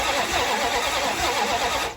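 A 1970 Dodge Dart engine cranks over steadily on the starter during a compression check on cylinder 4, with a rhythmic, close, continuous churning that cuts off at the end.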